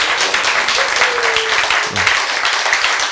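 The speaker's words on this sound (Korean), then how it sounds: "박수!" Listeners at a Korean lecture on healthy eating break into applause. The clapping is dense and steady for about three seconds, with a brief voice in the middle.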